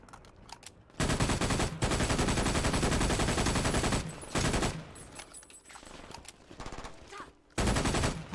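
Rapid gunfire from the video game Brink comes in loud, dense bursts with short pauses between them, mixed with game sound effects and no talk.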